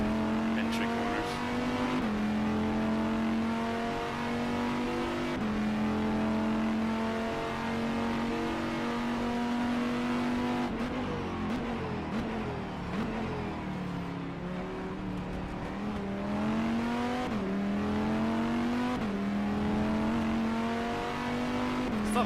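A GTE race car engine in the sim racing game rFactor 2 at Sebring drones steadily and loudly, its pitch rising through the gears and dropping for braking zones, with a voice talking over it.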